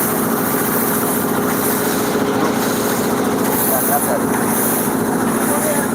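A boat engine runs on a winding rural canal in Bangladesh, a close, loud, steady drone with no let-up, and a voice talks over it.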